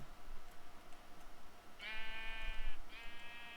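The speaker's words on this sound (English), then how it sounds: "Shut up, sheep." A sheep in the video game Minecraft bleats twice, two drawn-out wavering calls about a second apart over a soft background hiss.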